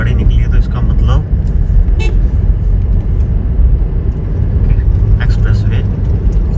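Car with Gujarat registration driving past on a village road near Devda, a loud broad engine and tyre roar mixed with wind, a brief horn toot and someone talking over it.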